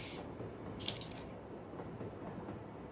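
Train rumble from the Cities: Skylines city-building game, a steady low rolling drone of railcars with a faint metallic click, continuous and fairly quiet with no talk.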